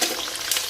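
Green chilies and ginger pieces fry in a pan on low heat, giving off a steady soft sizzle in a short close burst.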